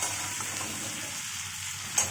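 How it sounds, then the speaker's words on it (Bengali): Shrimp and onion frying in a pan give a steady, even sizzle that runs throughout, with a small clink or splash near the end. "চিংড়ি মাছ ভাজার সময় তো এগুলো ভাজা হয়ে যাচ্ছে"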